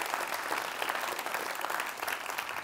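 Applause from a convocation audience, a brief burst of steady clapping heard at moderate distance and fairly quiet, with no voices over it.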